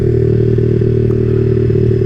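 A Yamaha XSR 155 motorcycle fitted with an upgraded Orion exhaust and headers idles loudly and close, a steady deep burbling drone with a rough, crackling pulse and no voices.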